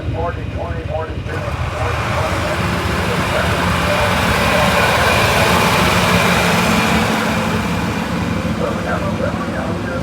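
A 1946 John Deere LA tractor engine running in a tractor parade at the National Oliver Show in Boonville, Missouri, a steady low rumble under continuous crowd and announcer talk.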